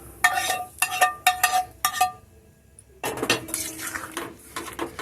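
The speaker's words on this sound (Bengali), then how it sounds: "এবার একটু ভালো করে ডিমের ভুজিয়াটা তরকার সঙ্গে মিশিয়ে দিতে হবে।" Egg bhurji being stirred into a tadka in a pan: a metal spoon scrapes and clinks sharply against the pan in quick bursts, a short pause, then steadier stirring and scraping.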